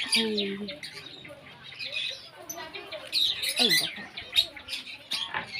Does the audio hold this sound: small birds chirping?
yes